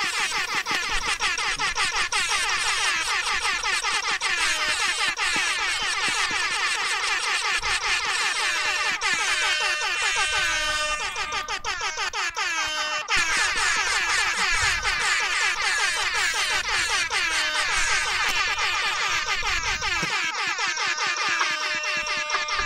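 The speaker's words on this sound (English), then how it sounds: "It's just air horns." Air horns blare nonstop at a BDN vs CPN B-team debate round of 16, a loud, dense cacophony of overlapping honks filling the whole stretch with only brief dips.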